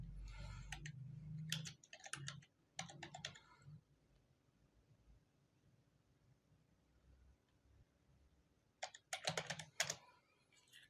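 Fingers type on a computer keyboard in two close, clattering bursts, a run of rapid keystrokes at the start and another near the end, separated by several seconds of near silence, with no voices.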